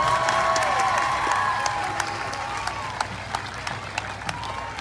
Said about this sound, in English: let's give them one last round of applause for their service to our community